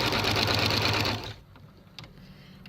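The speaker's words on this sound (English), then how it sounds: "All I'm doing is sewing." Sewing machine stitching steadily while gathering fabric, loud and close with a fast continuous mechanical whir for over a second, then stopping abruptly into quiet room tone with faint handling clicks.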